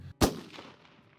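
A single rifle shot at a long-range shooting session: one sharp, loud crack followed by a rolling echo that fades over about a second, with no voices.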